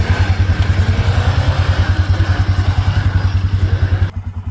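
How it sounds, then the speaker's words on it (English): A snowmobile engine runs steadily close by during backcountry sled camping, a loud pulsing low drone with faint clatter, cutting off abruptly near the end. "I thought I would ride my own snowmobile."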